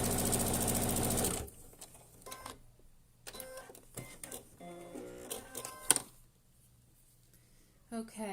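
A sewing machine in a workroom stitching a strap for a hand sanitiser pouch, a steady loud whirring run that stops abruptly, followed by quieter handling clatter and intermittent mechanical sounds.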